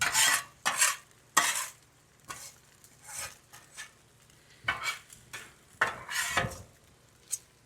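A metal spatula scoops cooked rice off a Blackstone flat-top griddle for kung pao chicken, producing close, irregular scraping bursts and clatter over a faint sizzle, with no talking.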